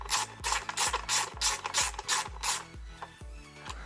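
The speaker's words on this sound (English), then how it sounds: "I'll probably tighten it all the way on this one." A hand ratchet tightens a bolt during teardown of a 2018 Kawasaki KLX140L dirt bike, giving close, rhythmic back-and-forth clicking strokes, roughly a dozen in quick succession, with no one talking.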